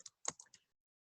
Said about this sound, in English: Please sign this application by typing your first and last name below.